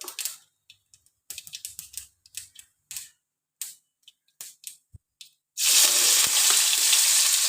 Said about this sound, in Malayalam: കടു വറക്കും